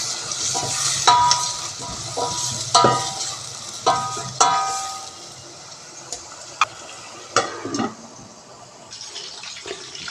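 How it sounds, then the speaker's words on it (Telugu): Onions and green chilies fry in a pan for chicken curry, a soft steady sizzle under intermittent sharp clinks and scrapes of a spoon stirring against the pan. "ఆనియన్ అనేది ఇలా బ్రౌన్ కలర్లో ఫ్రై అయిపోయింది కదా"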